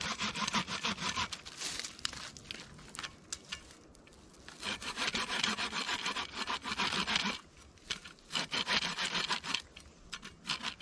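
A small saw built into a multi-tool shovel rasps through a very dry branch in repeated back-and-forth strokes, close and moderately loud, with short pauses between bursts of cutting.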